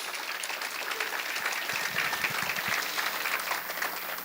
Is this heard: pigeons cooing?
no